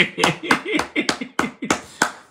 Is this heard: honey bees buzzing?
no